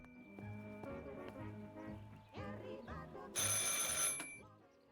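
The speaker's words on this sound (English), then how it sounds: "I should pick up the phone but remain silent." A telephone rings in the horror video game Martha Is Dead, a repeating bell-like ring layered over eerie tonal music, moderately loud, with a brighter burst of sound near the end.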